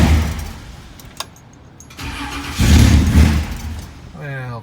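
Big-block engine of an Impala cranks over with rough, uneven churning that swells into a louder catch as it tries to fire, with a voice heard near the end.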